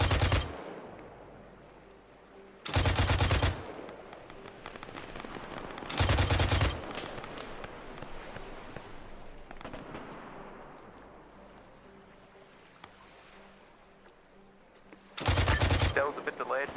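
Incoming gunfire in the video game Arma 3 comes as loud, short bursts spaced several seconds apart over a quieter rumbling background.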